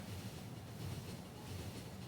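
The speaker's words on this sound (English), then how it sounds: "Oh, the train. I ain't watching the right train." A train rolls past in a first-person multiplayer video game, a steady low rumble holding at an even, fairly loud level for the whole stretch with no voices over it.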